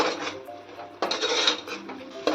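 Biryani masala sautéed in oil in a cooker for egg biryani, heard as a soft steady sizzle under scraping and clattering stirring, with a sharper metallic knock partway through and another at the end.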